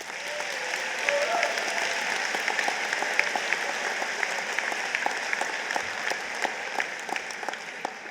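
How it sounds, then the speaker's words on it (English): Sustained applause from a crowd at a high school graduation ceremony, dense even clapping with scattered louder claps throughout. "Please give them a round of applause."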